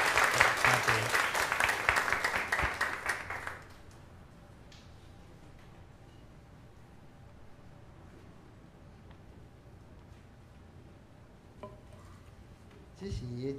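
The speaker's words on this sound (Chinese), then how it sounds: "所以咱用鼓掌吼，佫一摆来欢迎你伫咱中间" A church congregation at a Christmas thanksgiving service bursts into loud, dense applause to welcome a newcomer; the clapping lasts about three and a half seconds and then stops, leaving a quiet room with a brief rustle near the end.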